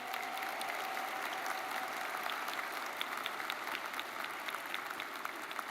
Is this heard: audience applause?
yes